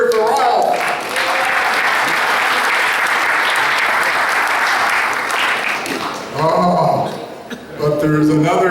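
A Rotary club audience bursts into sustained applause and cheering for its president, a loud, dense crowd of clapping that lasts several seconds, with speech before it and laughing talk as it fades.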